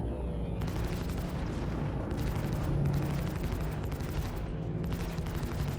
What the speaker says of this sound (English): Oh, they're shooting me now.